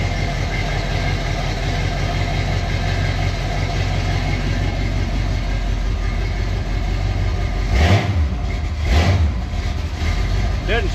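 A 1978 Ford engine runs steadily with a continuous low rumble, swelling in two brief revs near the end; talk is not evident over it.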